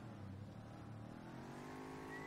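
A supercar accelerating in Farming Simulator 19, its engine note climbing steadily in pitch as it revs up. The sound is smooth, continuous and fairly quiet, with no talking over it.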